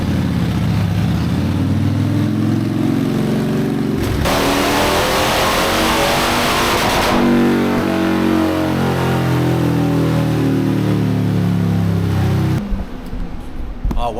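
A Harley-Davidson motorcycle engine on a dyno, held at a loud steady roar, surging sharply as it revs harder through the middle of the run, then dropping away abruptly near the end.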